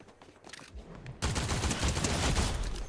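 Rapid bursts of gunfire from the Fortnite video game, starting sparse and faint, then swelling into a loud, sustained barrage of overlapping shots.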